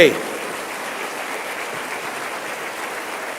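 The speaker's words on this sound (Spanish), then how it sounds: "Denle un aplauso al Señor" A church congregation gives a round of applause to the Lord during a sermon, a dense, even patter of clapping sustained throughout without a break.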